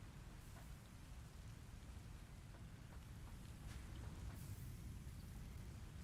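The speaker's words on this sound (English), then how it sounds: "This is the first I've seen it's raining." Steady rain patters in the factory-building game Satisfactory, a continuous soft wash of drops with faint low rumble, heard alone at low volume without talk.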